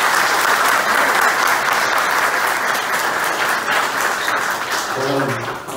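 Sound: applause for Dr. Antônio Jacques

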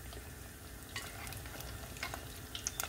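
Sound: frying tuna cakes

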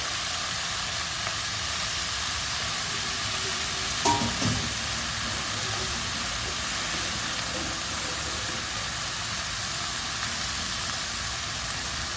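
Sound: greens being sautéed in a pan

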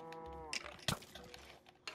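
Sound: cow mooing in Minecraft video game

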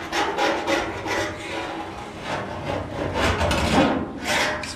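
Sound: Snap-on scriber scribing along frame rail

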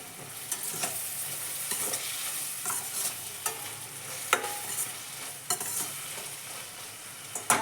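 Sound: stirring food frying in a pan

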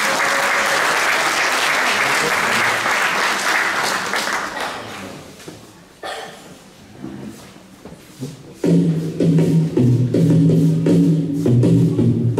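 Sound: audience applause for dance performers

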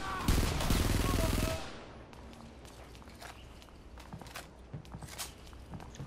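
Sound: gunfire in the video game Frontlines: Fuel of War

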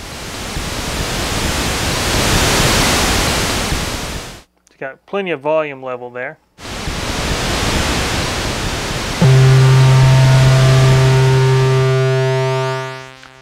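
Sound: analog synthesizer noise source

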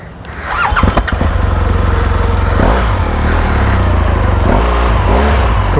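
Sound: BMW R18 motorcycle engine starting and warming up

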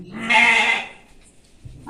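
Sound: young goat kid bleating

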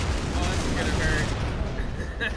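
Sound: grenade explosion at a bunker in a video game

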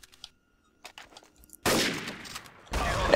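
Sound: gunfire in Counter-Strike, a video game

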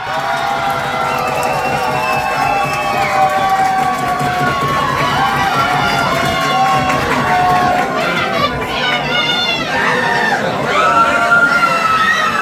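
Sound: audience applause and cheering

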